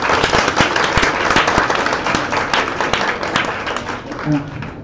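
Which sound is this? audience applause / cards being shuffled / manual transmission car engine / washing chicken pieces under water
audience applause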